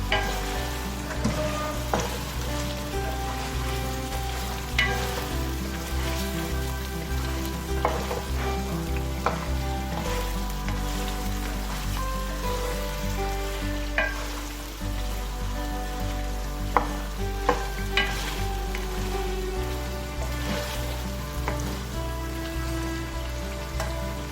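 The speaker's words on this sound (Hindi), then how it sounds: "1-2 मिनट उसको जिंजर गार्लिक के साथ पकाएंगे।" Chicken karahi sizzles and fries steadily in oil with crushed ginger and garlic, a continuous crackling hiss with occasional stirring, close and alone without voices.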